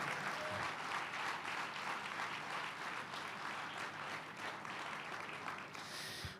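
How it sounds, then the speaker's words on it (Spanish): A church congregation claps steadily in praise to the Lord, a sustained, moderately distant roar of many hands that thins slightly near the end. "Fuerte ese aplauso de alabanza al Señor"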